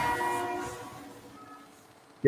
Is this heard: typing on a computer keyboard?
no